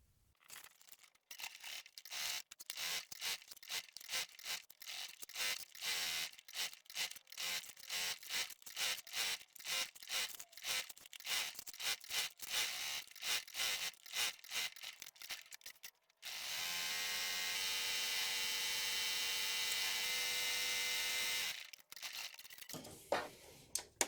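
A sewing machine stitches a fabric or cork crossbody bag in rapid bursts of close mechanical clatter, stopping and starting repeatedly, then running in one long continuous buzz before halting.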